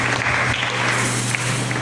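A congregation applauding during a Sunday church service in Bandal, steady close clapping that fills the whole moment without a break.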